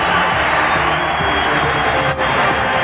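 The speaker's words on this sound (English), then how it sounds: "listen to this crowd" Basketball arena crowd cheering at a 1998 Rockets at Lakers NBA game, a loud, sustained roar of many voices filling the whole clip with barely any letup.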